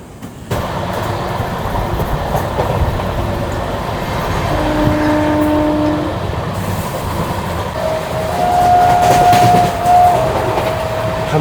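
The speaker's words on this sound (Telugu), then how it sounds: "మన ట్రైన్ అయితే అనపర్తి నుంచి డిపార్ట్ అయిపోయిందండి." The Simhadri Express pulls out of Anaparthi station, a loud, steady rumble of rail cars and wheels rolling on the track, with a faint squeal rising near the end.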